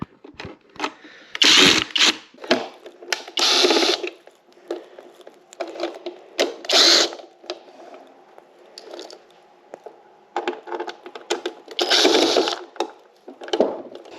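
Screws being worked out of a motorcycle headlight on a Grom clone, a series of short scraping and clicking bursts spaced irregularly, close up with quiet gaps between.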